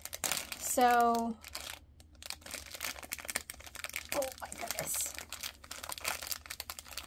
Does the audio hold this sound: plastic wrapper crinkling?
yes